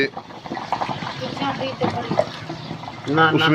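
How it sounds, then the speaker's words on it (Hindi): Water dripping into hot oil while making a burn ointment, crackling and bubbling in irregular bursts that swell toward the end, with a person talking over it. "ये अभी बुलबुलों की आवाज़ें आ रही हैं तेल में से, जो पानी उसमें गिर रहा है"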